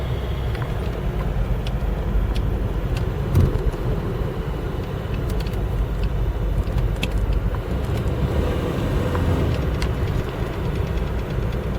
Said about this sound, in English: This car runs and drives great. Very smooth.